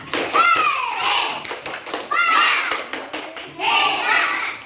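Schoolchildren in a classroom chant a 'tepuk hebat' clapping cheer for a group, bursts of young voices and rhythmic hand claps repeating in three short phrases, close and lively.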